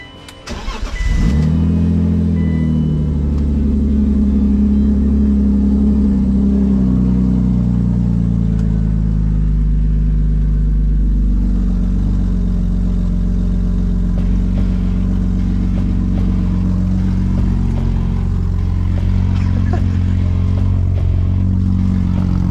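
A BMW E36 Z3 engine cranks and catches, then runs loud and close with a steady idle and some revving, the engine filling the whole stretch with no talk over it.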